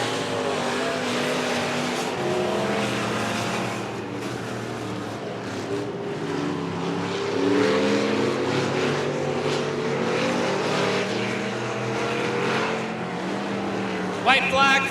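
Street stock race cars lapping Coos Bay Speedway, a steady loud engine drone with shifting harmonic pitch as cars pass, continuous throughout with a brief sharp burst near the end, under a race announcer's voice.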